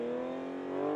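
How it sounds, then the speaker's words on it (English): A car pulls away in a clutch-slipping, smoky start on a wet track, its engine holding a steady, loud droning note that swells slightly toward the end. "And it's off in a clutch-slipping, smoky start."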